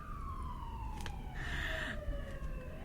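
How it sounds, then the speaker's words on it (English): An emergency siren sounds at a distance with a slow falling wail, steady beneath a brighter burst of noise partway through, with no talking over it. "but to cue siren."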